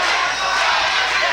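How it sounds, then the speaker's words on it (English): A loud, dense roar of cheering from the crowd at an independent wrestling show, urging on Charlie Weston in a title match, with the sound filling the whole moment. "Man, listen to this crowd for Charlie Weston"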